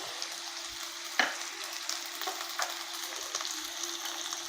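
Peas drop into a pan of carrot curry that is frying, with a steady soft sizzle, a sharp splash as they go in, and a few light stirring scrapes after.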